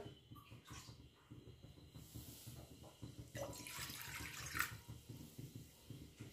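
Water runs and splashes steadily into a metal kadhai, a continuous trickling pour with a brighter splash near the end, no voices.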